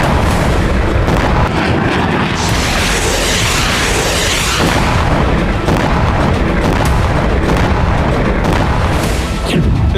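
Russian missile and drone strikes on Kyiv and other Ukrainian cities, with loud, dense booms and rumbling blasts filling the whole stretch, layered heavy impacts following one another without pause.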